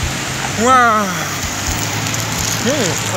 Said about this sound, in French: Nous sommes sous la pluie.